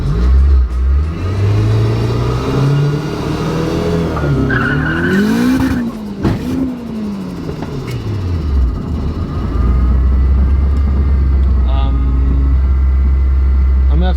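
Turbocharged K20 Honda Civic launching with launch control: engine held at a rising, bouncing rev before a loud surge and squealing tires, then a low, heavy rumble as it pulls away, close-miked and continuous.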